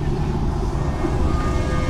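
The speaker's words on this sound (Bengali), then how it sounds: "অনেকক্ষণ চালানোর পরে ইঞ্জিন থেকে এমন এমন সাউন্ড আসে।" Steady, loud vehicle engine drone on a long drive, a dense low rumble with road noise that holds constant throughout with no talking.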